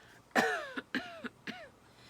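Four short coughs follow one another in a loose rhythm, the first strongest, close to the listener in an otherwise quiet space.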